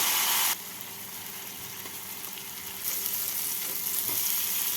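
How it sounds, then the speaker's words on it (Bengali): Fried potato and cauliflower being stirred with spices in a pan while cooking koi fish curry, a steady close sizzle with stirring scrapes, louder at the start, quieter, then rising again near the end. "আলু আর ফুলকপি দিয়ে মশলার সাথে নাড়াচাড়া করে নেব"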